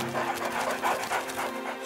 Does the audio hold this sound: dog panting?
yes